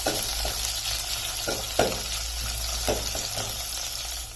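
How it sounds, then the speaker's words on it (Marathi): Green chillies and curry leaves stir in hot oil, giving a steady close sizzle broken by a few scraping stirs of a spoon. "दोन ते तीन हिरवी मिरची आणि थोडासा कढीपत्ता याला थोडंसं हलवून घ्यायचं"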